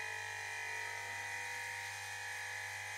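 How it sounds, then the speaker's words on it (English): A twin-cylinder Bambi BB50D air compressor runs steadily, giving a constant, even mechanical hum with a high whine that holds unchanged from start to finish. No other sounds break in. "this is the real sound of the double Bambi compressor"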